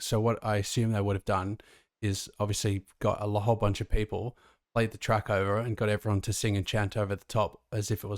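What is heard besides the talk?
No distinct noise like a dog, phone or traffic.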